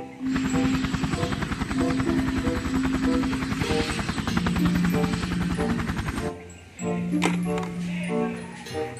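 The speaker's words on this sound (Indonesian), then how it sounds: "Wow, helikopter militer." A toy military helicopter gives a loud, rapid electronic rotor chop with steady beeping tones, continuous for about six seconds, then briefly cuts out and resumes with a different tone.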